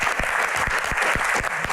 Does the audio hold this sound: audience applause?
yes